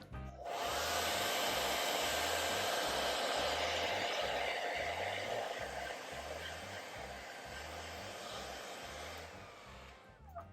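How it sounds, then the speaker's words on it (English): A hair dryer blows steadily for about nine seconds, a loud continuous airy roar with a low motor hum, then switches off. "And then we have the hair dryer."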